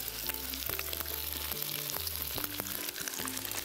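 A ginger slice frying in oil over medium heat gives a continuous sizzle, moderately loud and close, overlaid by repeated tonal hums and clicks, with no talk.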